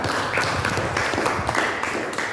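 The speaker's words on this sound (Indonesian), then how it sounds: "Oke, betul, tepuk tangan." Students applauding in a classroom during an Islamic religious education lesson: brief, lively clapping from a group of students, steady and close throughout.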